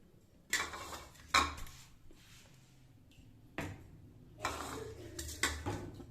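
Roasted sesame seeds being tipped from a pan onto a plate, with several distinct clinks and scrapes of metal utensils against cookware, spaced irregularly with quiet gaps between them, close by and moderately loud, no talking.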